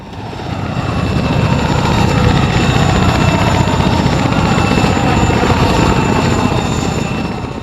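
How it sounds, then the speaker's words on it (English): A loud, continuous helicopter rotor roar in the video game Arma 3 fades in and holds steady, its thudding blades and whine filling the whole clip. "Choppers are very, very loud."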